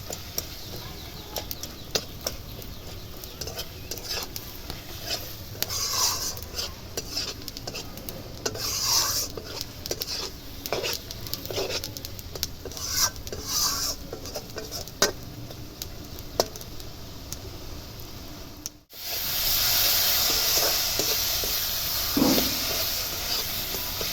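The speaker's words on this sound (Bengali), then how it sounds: "একটু নাড়িয়ে চাড়িয়ে নেওয়া হচ্ছে" Masala for rohu fish curry stirred in a pan, repeated scraping and rubbing strokes over a low sizzle, then a brief gap followed by a louder, steadier hiss of frying.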